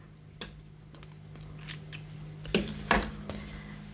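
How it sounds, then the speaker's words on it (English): Scissors snipping a yarn tail on a crocheted chunky sunflower blanket, a few crisp close clicks and cuts, the sharpest two near the end, in a quiet room. "now I'm going to cut my yarn tail"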